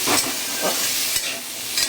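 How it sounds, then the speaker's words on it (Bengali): Potatoes frying in oil in a kadai (wok) while being stirred, a close, steady sizzle broken by several louder scraping stirs. "আর অন্যদিকে কড়াইয়ের মধ্যে আলুটা দিয়ে দিয়েছি।"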